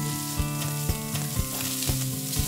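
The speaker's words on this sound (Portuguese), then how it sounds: "Frigideira bem quente." Pork sizzles loudly in a very hot frying pan with annatto oil, a dense constant crackle broken by regular scraping knocks as it is stirred.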